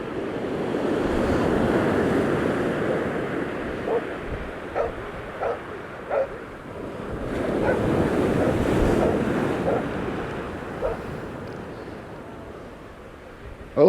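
Sea waves and swell break on the beach at Hornsea, rising and falling surf washing in two broad surges with wind rumble against the microphone and a few short knocks in between.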